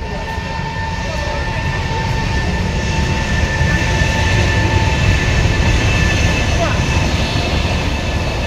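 A metro train passes close by on an Indian rail line, a steady loud rumble with rolling wheel noise and a faint high whine holding throughout, with no pause or fade.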